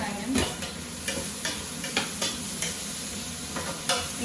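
Onions fry and sizzle in a pan on a kitchen stove while a utensil stirs them. The soft, steady sizzle is broken by repeated scraping strokes at a relaxed, regular pace, with no talking.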